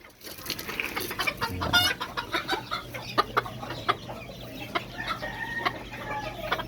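Chickens on a backyard farm, rooster and hen, cluck and call in repeated short bursts with a crow-like rising call near the start, fairly close and steady, with no talking.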